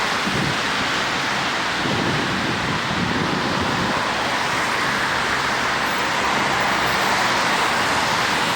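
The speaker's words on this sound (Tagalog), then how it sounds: "nag-build up na po yung traffic sa baba" Traffic builds on a rainy night on the road below, heard as a loud, continuous wash of vehicle roar and tire hiss on wet pavement mixed with rain, steady throughout with no talk.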